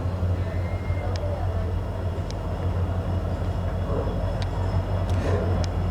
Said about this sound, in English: And there it is, coming in with a WDP-4D locomotive.